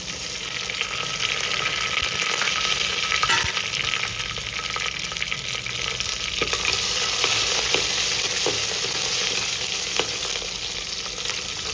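Crushed garlic frying in hot oil for a fish curry, a dense, loud, steady sizzle and crackle close by, with occasional stirring scrapes and no speech.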